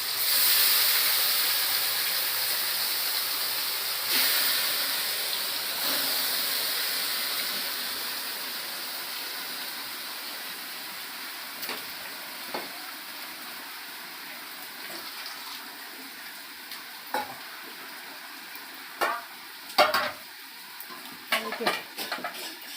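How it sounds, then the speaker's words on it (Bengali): Meat for a mezban-style dish frying in a wok, stirred as it cooks: a loud, steady hiss of sizzling oil that gradually settles, then a run of scraping, clanking stirs toward the end, close up and without talk. "মাংস ছাইড়া দিল কড়াইতে।"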